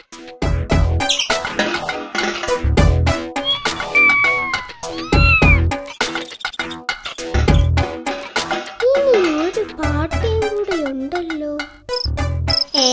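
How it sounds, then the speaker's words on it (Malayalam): A cartoon cat in a Malayalam animated children's story meows repeatedly in rising and falling, drawn-out calls. Bright music and other effects sound close around it. "കണ്ടം പൂച്ച കറങ്ങി നടപ്പുണ്ട്"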